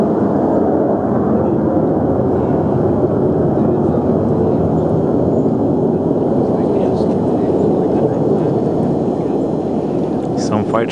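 A fighter jet flies overhead, a loud, broad roar that holds steady throughout, with some voices mixed in beneath it.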